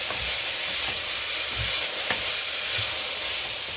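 Steady bright sizzling hiss from a hot pan being deglazed while cooking corned beets, with occasional soft stirring knocks and scrapes underneath.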